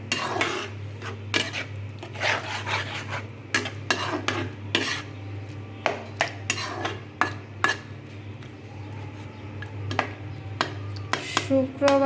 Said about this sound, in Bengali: মশলাটা এভাবে কষিয়ে নেব